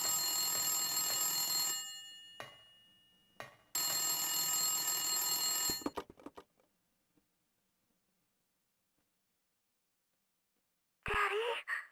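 A telephone rings in the Silent Hill video game, two long bursts of loud electronic ringing separated by short pauses, then fading into near silence before a brief sharp sound at the end.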